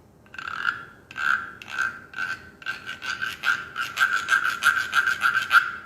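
Rhythmic rasping scrapes on a ridged instrument, repeated strokes speeding up and growing louder, close and alone.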